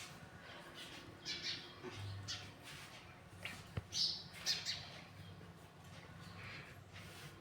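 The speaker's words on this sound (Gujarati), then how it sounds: "ચકલા અંદર માળા બનાવે છે।" House sparrows nesting inside a village home chirp and squawk in scattered short bursts from fairly close by, with quiet room noise between the calls.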